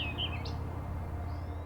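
A few quick bird chirps at the start, then a faint tweet later, over a steady low rumble of a flowing water current.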